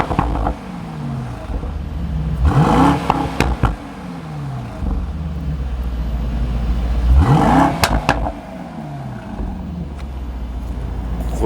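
A Mercedes AMG GT43 with chip tuning and a large exhaust revs twice, each blip rising sharply and falling back, with engine idle rumbling between and a faint clattering knock.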